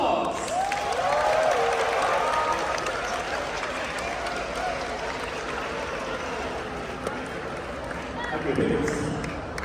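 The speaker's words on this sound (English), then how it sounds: "give them a big round of applause" A graduation-day audience of parents and graduates applauds in a steady wash of clapping and crowd noise lasting several seconds, with voices mixed in.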